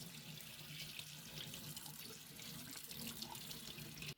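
Water runs steadily from a tap over a patinated brass pendant being washed in a sink, a continuous close splashing flow that lasts the whole moment without pause.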